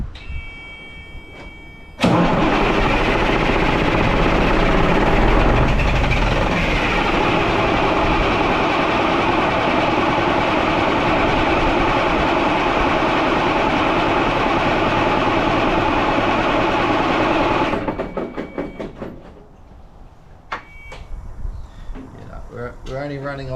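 A Peterbilt truck engine cranks on starter and ether, a loud steady grinding roar that carries on for about fifteen seconds and then cuts off, leaving quieter clanks and rattles.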